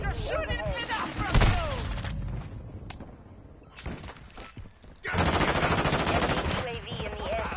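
Rapid automatic gunfire and explosions in a first-person shooter video game, dense bursts with a loud stretch near the end, mixed with game voices and effects.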